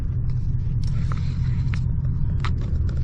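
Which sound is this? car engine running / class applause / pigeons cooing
car engine running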